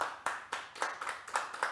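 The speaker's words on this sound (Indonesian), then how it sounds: "Tepuk tangan semuanya dong." About seven sharp hand claps in a loose, uneven rhythm, fairly close and otherwise quiet.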